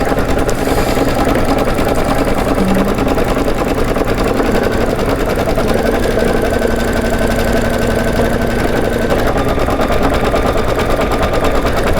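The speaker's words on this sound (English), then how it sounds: "the reason why we're doing that satin stitch now" An embroidery sewing machine stitches a satin stitch, a loud, steady, rapid mechanical hum and needle clatter running continuously throughout with no talk.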